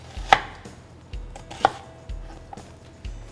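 Several sharp knife chops on a cutting board, spaced unevenly with dull thuds between, close and clear with no talking.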